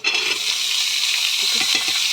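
Lightly boiled jackfruit seeds frying in oil with browned onions, a loud, continuous sizzle close by, with a few stirring scrapes near the end.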